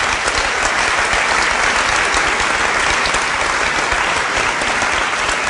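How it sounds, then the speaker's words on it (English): A large audience applauds at a talk on green energy at the University of Geneva, a dense, even wash of clapping that stays loud for the whole stretch without voices. "That's worth a round of applause"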